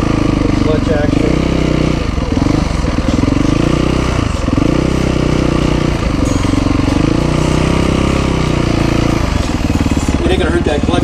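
A motorcycle engine runs loud and steady up close as the clutch is worked, its rough idle rising and dipping in repeated surges, with people talking over it.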